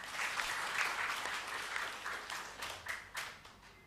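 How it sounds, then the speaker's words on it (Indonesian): Congregation applause during a Sunday service at a GKPS church in Cililitan, a steady wash of many hands clapping for about four seconds, fading slightly with a few sharper bursts near the end. "Tepuk tangan dulu."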